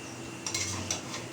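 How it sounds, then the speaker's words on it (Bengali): Chicken kosha is stirred in a cooking pan, a few quiet metallic clinks and scrapes of a utensil against the pan over a low, steady kitchen background. "এবার এখন চিকেনটাকে কষে নিচ্ছি।"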